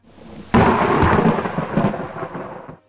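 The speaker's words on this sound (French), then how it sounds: "que la tempête et le tonnerre rugirent" Thunderstorm effect: a sudden loud crack of thunder rolls into a long, heavy rumble over steady rain, slowly fading away.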